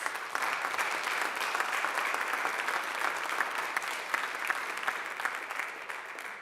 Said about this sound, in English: Give yourselves and those who attended a round of applause.